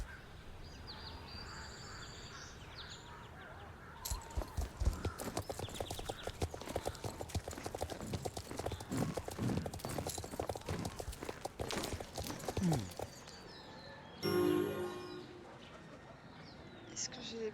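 Rapid clip-clop of a horse galloping in a video game, steady hoofbeats running close and loud for several seconds over a soft ambient bed with faint birdsong and cooing.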